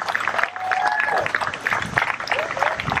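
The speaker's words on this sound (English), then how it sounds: "So give them a round of applause." Crowd at a community drug-awareness event in Queen Anne's County applauding, brisk clapping with occasional whistles and cheers mixed in, fairly loud and close.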